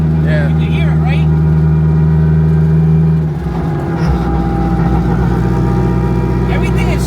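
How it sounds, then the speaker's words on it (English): Loud, steady engine and transmission drone from a 1000 HP all-wheel-drive Honda Civic on a street pull, with strong low harmonics that shift pitch midway and continue as a dense roar. "the transmission's obviously a lot louder"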